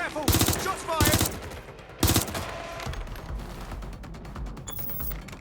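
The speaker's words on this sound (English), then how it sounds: "Careful! Shots fired!" Three loud, evenly spaced shots ring out in Watch Dogs Legion, followed by a rapid stream of quieter, distant gunfire crackling in the background.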